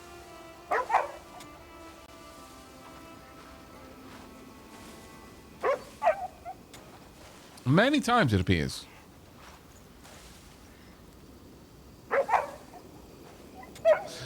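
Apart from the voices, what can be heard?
dog in the video game Crimson Desert being petted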